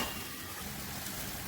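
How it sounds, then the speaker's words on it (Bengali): Shrimp and carrots fry in a pan with a faint, steady sizzle and no talking over it. "আমি একটু ভেজে দিচ্ছি।"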